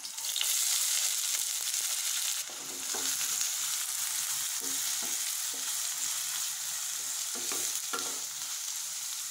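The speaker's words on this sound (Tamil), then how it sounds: "போட்டு நல்லா வதக்கலாமுங்க" Chopped onions and curry leaves sizzle steadily in a hot pan, with occasional scrapes and stirring clatter; no one speaks.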